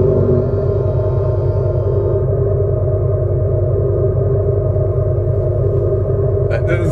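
Abarth 500e electric car with its engine sound generator switched on, a loud, steady low synthetic rumble held close and continuous throughout, with a few brief clicks near the end.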